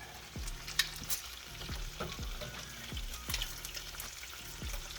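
Bacon frying in a pan, a steady crackling sizzle with scattered pops throughout, with utensils scraping and tapping the pan at a regular pace in the foreground.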